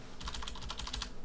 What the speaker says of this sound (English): go up into my URL and type localhost